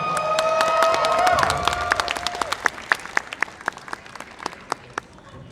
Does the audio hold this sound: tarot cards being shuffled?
no